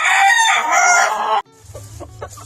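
A rooster crows loudly and long, then chickens cluck in short, uneven bursts with a low background hum.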